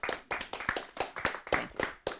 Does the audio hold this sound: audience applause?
yes